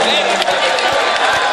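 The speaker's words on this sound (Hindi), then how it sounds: "भाई तालियां बजा दीजिए इस बात पे तो" Listeners at a mushaira poetry recital in Haldwani clap and cheer in a loud, dense burst of applause, with voices calling out over the clapping.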